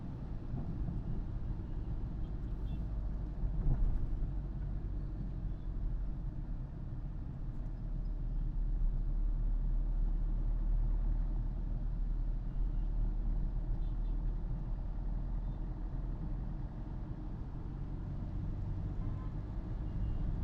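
Car cruising in third gear through rain in Tambaram, Chennai, heard from inside the cabin as a steady, faint low engine and road rumble with soft wind noise, no talking.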